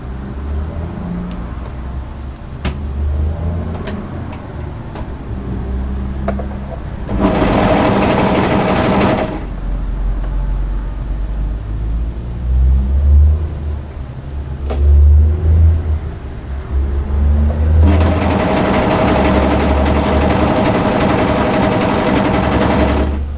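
Overlocker sewing the centre back seam of drop crotch joggers, two loud bursts of rapid mechanical whirring separated by quieter handling noises and fabric rustle, no voices.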